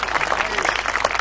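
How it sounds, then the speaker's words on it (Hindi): Brief clapping from listeners at a Hindi poetry recital, a short burst of scattered hands with voices murmuring through it. "इस बात पर कमिश्नर साहब तक ताली बजा रहे हैं"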